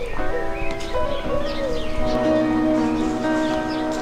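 Birds call and coo softly during springtime nesting, a few chirps and cooing notes rising over a steady background hum, recorded indoors on a small camcorder.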